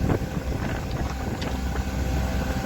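Strong wind roars steadily against the microphone, a broad rushing buffet with no voices.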